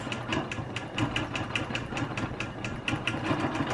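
A Q16 longarm quilting machine stitches a quilt, giving a steady, fast mechanical chatter with a regular needle rhythm that runs without a break at moderate, close range.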